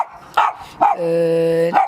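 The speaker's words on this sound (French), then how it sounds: "Il adore aboyer, hein, comme vous pouvez le voir" A pet dog barks loudly and close, two sharp yips followed by a long drawn-out howling bark that ends in another short yelp.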